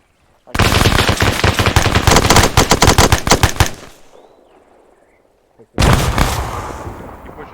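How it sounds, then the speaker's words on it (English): Heavy automatic gunfire rattles in a long, loud, close burst, then fades into a rumbling tail before a second loud blast hits, all in an ArmA 3 infantry platoon battle. "something massive just blew up and took out all of 1-2"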